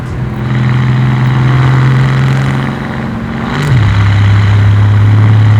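A 1,000-horsepower twin-turbo AMG engine runs close and loud with a steady drone that holds at one pitch, then drops to a lower pitch as the revs fall.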